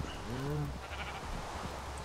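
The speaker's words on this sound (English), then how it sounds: "Sheep! Oh no, the sheep is gonna follow me now." A sheep in a video game gives a short, clear bleat of about half a second, close and fairly loud over steady low background noise.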